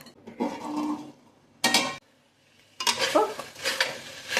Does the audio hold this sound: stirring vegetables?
yes